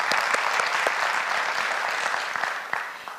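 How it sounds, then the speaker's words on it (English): Steady audience applause fills a hall, dense overlapping claps at even loudness that ease slightly toward the end, with no voices on top. "Please applause."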